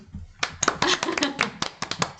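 A small group claps in a Korean history talk session, an irregular patter of individual hand claps, fairly close and moderately loud, starting after a brief pause and continuing unevenly to the end.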